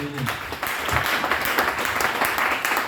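Church congregation applauding to acclaim the Lord, a dense, loud, sustained round of clapping from many hands that fills the space without pause.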